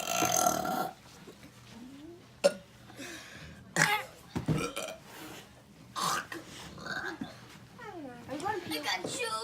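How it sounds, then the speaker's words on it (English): Repeated burps in a casual home burping contest, several short loud belches spaced through the clip with people talking and reacting between them. "I just burped it."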